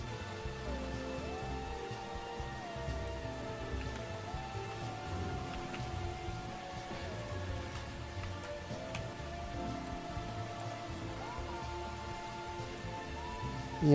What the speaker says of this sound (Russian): Кислотный дождь.